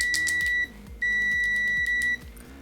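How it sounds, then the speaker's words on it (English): A RadioShack multimeter on continuity test with ProbeMaster probes gives a clear high electronic tone, close and steady: one held beep, a short gap, then a second long continuous beep, alone with no talk. "which makes it sound like it's just one long continuous beep"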